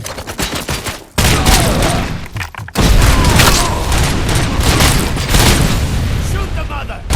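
Heavy gunfire in the shooter game Robocop: Rogue City, loud sustained bursts and booming shots filling the scene, with shouting voices mixed in among the volleys.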